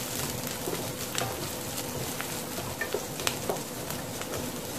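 Onions and chillies sautéing in a pan make a continuous sizzle with occasional stirring clicks and scrapes, moderately close.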